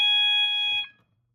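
A Notifier SGL-404 fire alarm panel sounds during a walk test: a loud, steady electronic alarm tone that holds for under a second, then cuts off abruptly into silence.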